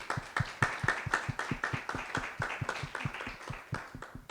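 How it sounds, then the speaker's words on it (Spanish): Applause at a panel discussion on women in politics. A small number of close, distinct hand claps fall in a quick, fairly regular rhythm and stay moderately quiet throughout. "Así que un aplauso también para ella."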